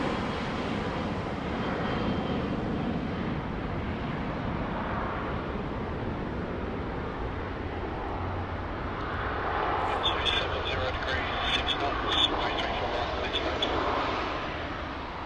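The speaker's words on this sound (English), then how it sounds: "Alrighty, we've got quite a few departures now lining up" Several airliners line up for departure at Sydney Airport, their jet engines giving a steady, distant rumble that swells slightly near the end while someone talks over it.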